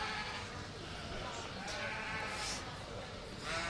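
Romney sheep bleat at an agricultural show, with several faint bleats scattered through a steady background hum while a person speaks over them.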